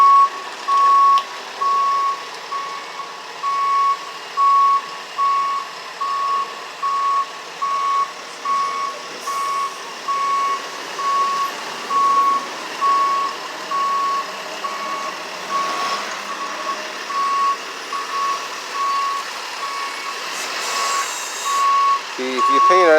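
A truck backs up, its reversing alarm sounding a steady, evenly spaced series of loud beeps that repeats throughout over low engine and traffic rumble, with faint voices in the background.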